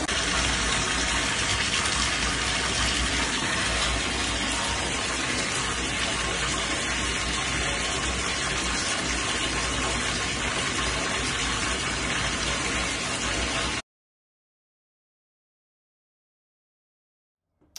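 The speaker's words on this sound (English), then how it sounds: "the water that we had running off from the taps after we made this repair" Water runs steadily from household taps fed by a thermal store after repair of its faulty indirect coil, a loud continuous gushing rush that stops abruptly, leaving silence.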